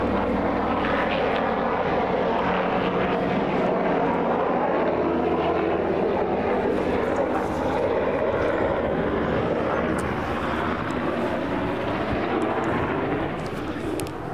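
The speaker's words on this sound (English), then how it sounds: "Helicopter." A helicopter passes overhead on a golf course, a steady loud engine and rotor drone filling the whole stretch, with people talking beneath it.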